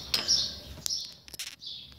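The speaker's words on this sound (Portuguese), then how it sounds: "Vou pôr para o pássaro preto." A caged chopi blackbird (pássaro preto) gives a few short, bright chirps and whistled notes close by, with brief pauses between calls and no talk.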